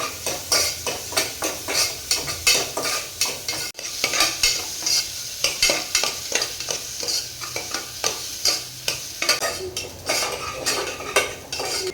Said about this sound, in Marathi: कांदा सुद्धा छान परतून घ्यायचं आहे